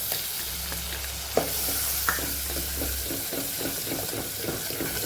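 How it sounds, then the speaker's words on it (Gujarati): Spices being stirred into hot oil with a pinch of asafoetida for a Kathiyawadi curry, a soft sizzle broken by a few sharp scrapes and clicks of the spoon against the pan, no one talking. "મસાલો આપણે તેલ સાથે આપણે મિક્સ કરી લઈશું"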